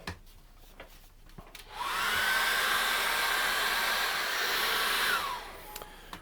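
A hair dryer blows steadily on acrylic paint, switching on after a moment and running at a constant whooshing hum for several seconds before cutting off.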